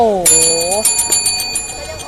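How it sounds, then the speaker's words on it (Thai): A stuck, broken bell rings on and on in rapid metallic pings with a sustained high tone, while a voice speaks over the first part. "กระดิ่งค้างไปแล้ว กระดิ่งคือพังไปแล้ว"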